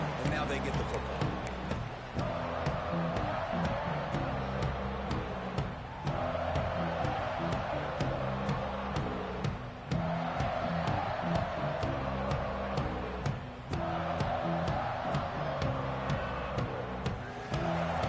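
Home stadium crowd noise in the video game College Football 26, a steady roaring swell of fans that dips and surges in waves, heard under continuous play-by-play commentary.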